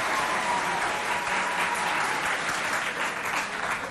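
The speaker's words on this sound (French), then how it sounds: "Applaudissez pour vous encore." Students from two high schools in a Sarh auditorium clap for themselves, producing a continuous, fairly soft roar of many hands that stays even from start to finish.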